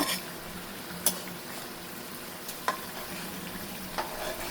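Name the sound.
fish frying and being flipped in a pan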